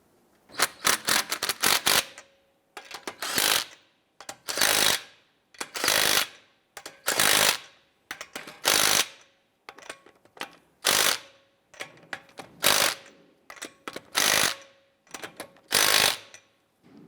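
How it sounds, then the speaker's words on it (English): A ratchet tightens lug nuts on a 2012-2017 Toyota Camry wheel in about a dozen quick clicking bursts, each separated by a short pause. The sound is close and clear, with no talking. "I'm going to go ahead and get all of our lug nuts started here. And once we get these installed a few threads, I'm going to go ahead and snug them down."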